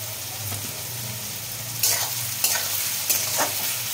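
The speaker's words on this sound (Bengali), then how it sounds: "তাহলে পেঁয়াজটাও আমার এদিকে ভাজা হয়ে যাবে" Onions frying with salt in a pan for a meat curry, a steady close sizzle broken by several sharp bursts of stirring and scraping.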